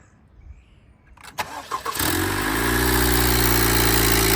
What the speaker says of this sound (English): right now we're gonna start the car. We're gonna see how this thing sounds